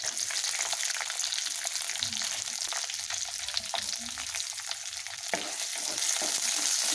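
Garlic frying in oil in a pan, after mustard seeds, fenugreek and curry leaves, gives a continuous close sizzle with fine crackles and occasional faint stirring knocks for several seconds.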